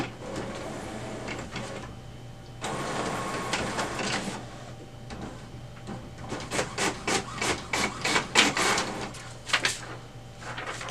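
An HP OfficeJet Pro 8210 printer prints a status report, sounding a sustained mechanical whir followed by a series of rhythmic rasping feed strokes as the page passes through, close and clear.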